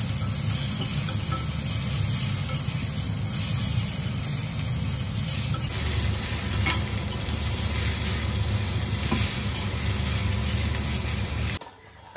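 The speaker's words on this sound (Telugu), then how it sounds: "దాంట్లో పల్లీలు అండ్ టమాటో, పచ్చిమిర్చి అండ్ ఆనియన్స్ వేసుకొని కొంచెం ఆయిల్లో ఫ్రై చేసుకుంటా" Peanuts, tomato, green chilli and onions frying in oil, a dense continuous close sizzle with faint stirring scrapes, cutting off abruptly at the end.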